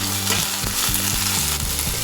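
Mint leaves and green chili frying in a pan, a continuous close sizzle with rhythmic stirring scrapes every half second or so, loud and steady with no voices.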